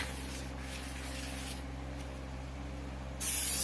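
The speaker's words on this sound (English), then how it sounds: "I spray it down with some brake clean." A steady aerosol hiss of brake cleaner sprayed onto a 2015 Chevrolet Silverado front brake rotor continues for a few seconds, close and fairly loud, ending in a sharper, brighter burst.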